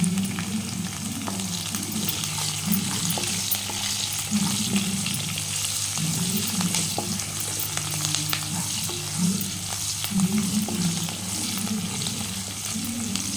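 Onions with a pinch of salt sizzle steadily in hot oil for chicken fry, a continuous close crackle with occasional stirring scrapes and no talk.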